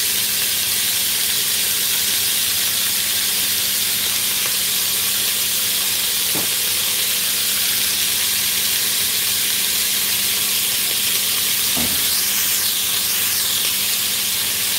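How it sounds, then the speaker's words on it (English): Steady loud sizzling and hissing from meat in a hot frying pan, continuous throughout with faint clinks now and then. "I hope you can still hear me over the sizzling."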